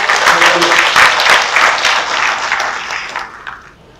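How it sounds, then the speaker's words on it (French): Audience applause for women community leaders at a workshop in Burundi, dense clapping that swells and then fades out, with brief voices underneath. "Est-ce qu'on peut applaudir aussi au mesdames?"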